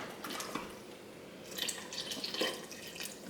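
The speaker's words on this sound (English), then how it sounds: "add just a little bit of broth to thin it out" Broth poured into a pot of Indian-spiced vegan chili to thin it before pressure cooking, a soft close trickle and splash in two short bursts, no voices.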